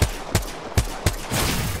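Gunfire in the Apex Legends video game: four sharp, loud single shots spaced about a third of a second apart, followed by a short burst of noisy rattle.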